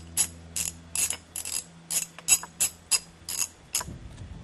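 A tire valve core is unscrewed during a conversion from PAX to conventional tires, giving about a dozen sharp ratcheting clicks in a steady, evenly spaced rhythm, close and clear with no talking.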